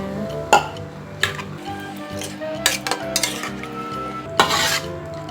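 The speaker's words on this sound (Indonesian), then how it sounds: "Aduk terus ya guys" A spoon scrapes and clinks against a pan in irregular bursts while seblak soup simmers gently underneath; no one speaks.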